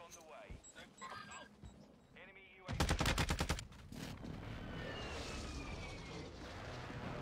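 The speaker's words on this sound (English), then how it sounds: "Somebody's shooting over here." A burst of rapid gunfire rattles out loudly in a video game for about a second, following scattered game sounds and leaving a steady noisy background afterward.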